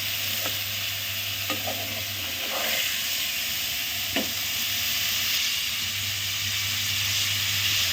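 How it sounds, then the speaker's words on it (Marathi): Paneer, about four hundred grams, frying in a pan on a gas stove: a steady, dense sizzle and hiss throughout, with a few soft scrapes and taps of a utensil, close and continuous. "आता आपण याला थोडं तळून घेणार आहे"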